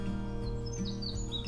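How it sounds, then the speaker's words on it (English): Birds chirp and sing outside a tent in green countryside, bright tweets and trills coming and going over a low steady hum, fairly near and moderately loud, with no talking. "You can hear the birds."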